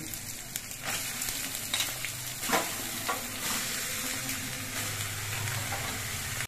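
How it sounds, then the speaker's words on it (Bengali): Cut bottle gourd pieces stirred into hot oil with ginger in a pan, a steady broad sizzle with repeated scraping and tossing stirs, close and moderately loud, with no speech. "লাউগুলো নেড়ে চেড়ে তেলের সঙ্গে মিশিয়ে নিতে হবে"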